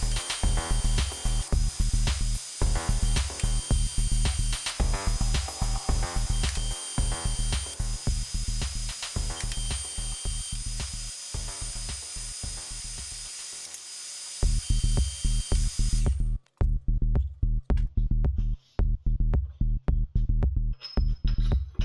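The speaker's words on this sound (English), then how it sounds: "Here, I am bending a small hoop that will support the steering wheel bearings away from the dash." Steel tube being bent into a small hoop for the steering wheel bearing support on a custom golf-cart desert mini buggy, with rapid repeated ratcheting clanks and metallic knocks, loud and close, pausing briefly before resuming in choppier bursts.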